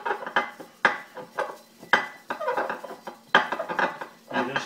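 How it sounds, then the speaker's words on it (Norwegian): A beer bottle is scrubbed with an ordinary dish brush and dish soap, giving repeated rhythmic scraping strokes with glassy knocks and clinks, close and clear with no talking. "Så jeg tar oppvaskmiddel og en vanlig oppvaskbørste."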